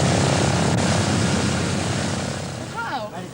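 A propeller airplane flies among tabletop mountains with a steady loud engine drone throughout, fading slightly toward the end, with a voice speaking briefly near the close.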